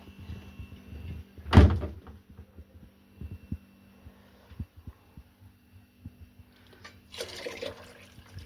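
A fridge door opens with one loud clunk, followed by faint knocks and rattles as a chilled water bottle is handled, then a short rustle near the end.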